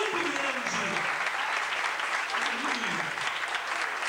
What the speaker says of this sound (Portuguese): Vamos aplaudir o preço que Jesus pagou